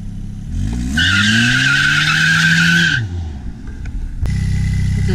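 A hard-accelerating Toyota Corolla with 175,000 miles and no nitrous, its engine climbing in pitch under a loud, sustained tire skid. The engine noise drops off, then a steady drone takes over.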